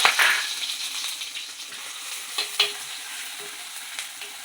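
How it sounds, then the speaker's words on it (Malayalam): Crushed ginger and garlic fry in hot oil for a Kerala-style fish curry, giving a soft continuous sizzle broken by a few scraping stirs of a utensil in the pan, close and moderately loud. "ഈ ഇഞ്ചിയിലെയും വെളുത്തുള്ളിയിലെയും പച്ചമണം ഒന്ന് മാറണ വരെ നമ്മൾ ഈ എണ്ണയിലിട്ടൊന്ന് മൂപ്പിച്ചെടുക്കണം"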